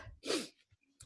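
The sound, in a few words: sneeze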